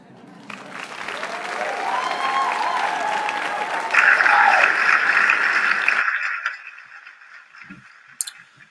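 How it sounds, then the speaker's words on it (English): Applause from a live audience at a storytelling night, a steady spread of clapping that swells midway, runs for about six seconds, then cuts off into near silence with a faint stray noise near the end. "there already was applause there"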